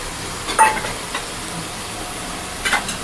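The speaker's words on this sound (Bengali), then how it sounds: "আমি আমাদের রসুন ফোড়ন দিচ্ছি টমেটো সস দিয়েছি আর আমি এটা দিচ্ছি চিলি সস" Garlic tempering sizzles in a pan with tomato sauce and chili sauce for chicken momo, a quiet steady fry broken by a few brief louder bursts of spatter, with no one talking.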